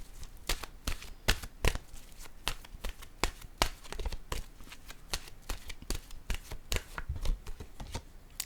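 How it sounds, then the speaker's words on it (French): Tarot cards are shuffled and laid down during a card reading, making a steady run of crisp, close riffling snaps and soft slaps that repeat rhythmically for several seconds, with no voice. "Je vais déposer une carte pour elle ici."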